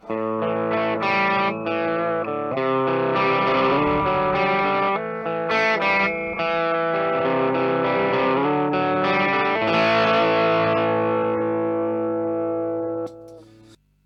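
An electric guitar run through a pedal board with a Proco RAT distortion set low, volume and filter at full, plays sustained gritty chords and riffs with a chorus-like shimmer, loud and continuous before fading out at the end.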